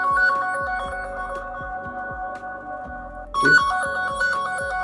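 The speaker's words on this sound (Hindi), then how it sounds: "फ़ोन जहां पर भी होगा वो साउंड प्ले होगा" A lost phone rings through a remote play-sound feature, a loud repeating electronic tone with a steady melodic pattern that briefly shifts pitch and pulses on without any speech.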